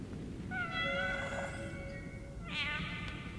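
Cat in the video game Iris.Fall giving two clear meows, one long and one shorter, over a soft steady game ambience.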